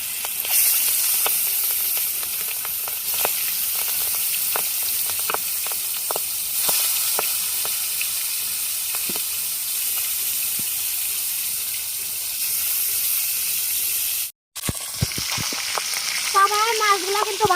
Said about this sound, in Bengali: তেলটাও গরম হয়ে গেছে, এখন মাছগুলো দিয়ে দেবো।